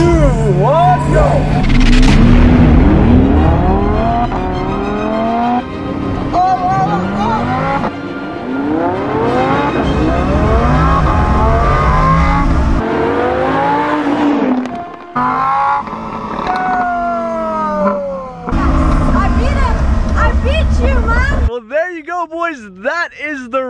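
A Lamborghini and a Rolls Royce race from a standing start, engines roaring loud and close with rising revs, gear-shift drops and sweeping pass-by tones throughout, a brief calmer gap near the end before revving resumes.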